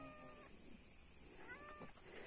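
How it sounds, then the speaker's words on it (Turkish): A cat meows in a farm setting, with a pair of drawn-out harmonic calls, one at the start and another near the end, over steady outdoor background noise. "Şu anda iki tane kedimiz oldu aslında."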